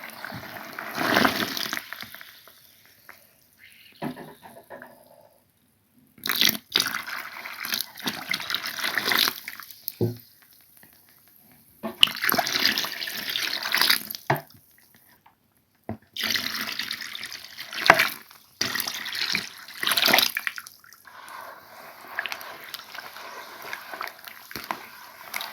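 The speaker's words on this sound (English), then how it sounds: "Add more water." Water is poured or run from a tap onto clay mud that is being softened, in several bursts of splashing and trickling separated by short quiet gaps, close and fairly soft.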